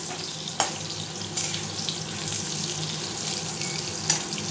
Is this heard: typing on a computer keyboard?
no